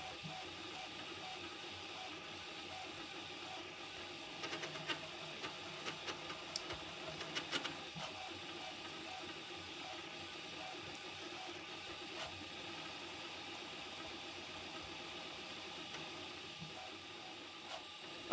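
Prusa MK4 3D printer converted to a granule extruder, printing at 120 mm/s: a faint steady stepper-motor hum with light rattling and a burst of quick clicks partway through, quiet and continuous with no talking.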